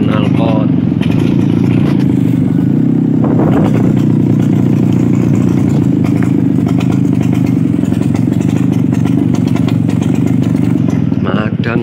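A Vespa scooter with exhaust trouble drones loudly and steadily on a touring ride, its rough engine note continuous throughout.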